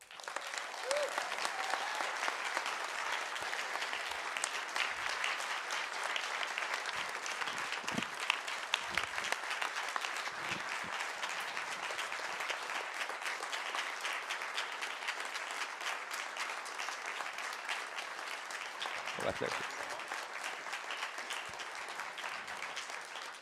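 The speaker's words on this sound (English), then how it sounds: "Please give a warm applause to the winner of this year's BI Research Award, Anish Gustafsson." A large audience at a business school research award ceremony claps warmly and continuously for the winner, a dense, even roar of applause sustained for over twenty seconds with only slight swells.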